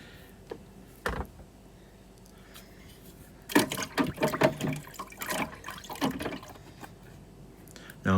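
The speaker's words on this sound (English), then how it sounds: "As soon as I've done that, I'm going to put it into some water." A Shark NZ801UKT vacuum part goes into water: a single splash, then a busy run of sloshing and dripping clatter, then faint trickles in a quiet room.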